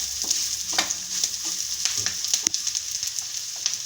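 Tuna fish pickle is stirred in a pan over a steady hiss of frying, with a spoon scraping and clicking against the metal at irregular moments, close and without voices.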